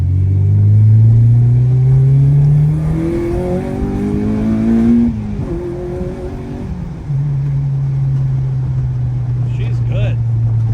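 An Acura RSX Type S engine revs up loud and close while the car accelerates through the gears. The pitch climbs, drops at a shift and then holds a steady drone.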